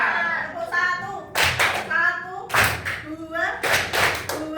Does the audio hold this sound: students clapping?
yes